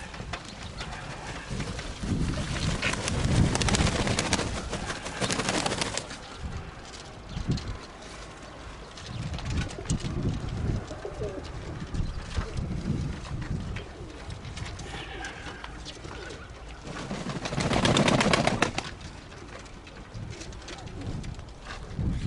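Pigeons cooing outdoors, with repeated soft coos that rise into louder bursts around the start and again near the end, mixed with rustling and flutter-like noise against steady background hiss.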